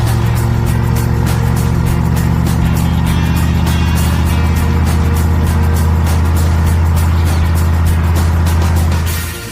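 Mazda mini-truck with a swapped Oldsmobile 455 V8 idles roughly and loudly, with a steady deep engine drone and a faint ticking rattle. The engine is running poorly and overheating.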